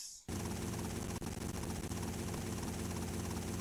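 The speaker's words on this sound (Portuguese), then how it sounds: "Isso aqui é um helicóptero, não é um foguete, não." Helicopter in GTA Vice City Stories, a dense whirring rotor and engine drone that starts abruptly and holds steady and loud, with a brief dip partway through and no talking.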